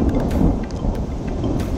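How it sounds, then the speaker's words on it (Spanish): A thunderstorm with heavy rain during a crappie fishing outing, a dense steady roar of rainfall with deep rolling thunder rumbling underneath, loud and enveloping, with no one speaking. "Está pasando una tormenta ahorita"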